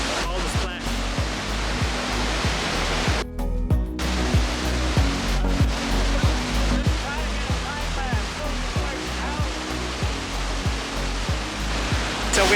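Water from a northern California waterfall crashes and splashes in a heavy, continuous roar close by, with a steady rhythmic low thumping running beneath the rush.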